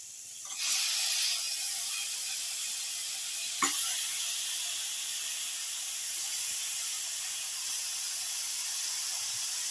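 Mutton pieces with cumin start to fry in hot oil, breaking into a loud, steady sizzle just after the start that holds evenly to the end, with a brief clatter partway through.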